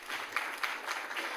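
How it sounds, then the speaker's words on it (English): A brief burst of audience applause at a National Space Day celebration, a dense wash of clapping with no pauses. "So I think for that we need to clap for Hyderabad at least"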